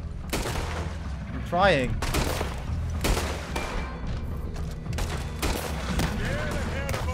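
Gunfire in Red Dead Redemption 2 aimed at a legendary monster alligator, repeated loud shots at irregular intervals. People talk and shout over it throughout.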